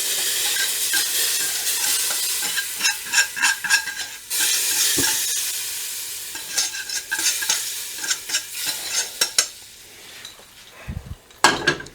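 Stewed chicken stirred in a hot pan, loud steady sizzling and hiss with repeated scraping strokes of the spoon against the pan, close up, easing off toward the end with a final clatter, no talking.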